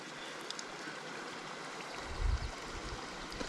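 A creek flows steadily in a remote canyon as a soft, continuous rush of water heard close and fairly quiet, with a brief low thump partway through.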